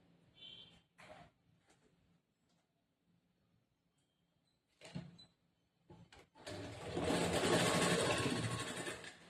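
A sewing machine runs steadily at close range, stitching blouse fabric after a few short handling clicks and pauses.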